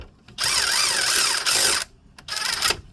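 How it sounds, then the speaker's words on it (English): A ratchet tightens brake bolts on a 2007 Saturn Ion, giving loud, rapid, continuous clicking in two bursts separated by a short pause, close up and with no talking. "So you could just use your ratchet to tighten it up."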